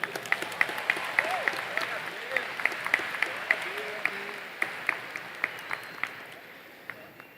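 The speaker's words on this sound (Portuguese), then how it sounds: "Aplauda para valer." A church congregation at a sermon gives moderate applause, a wash of clapping under which a voice calls out with sharp periodic accents, fading slightly toward the end.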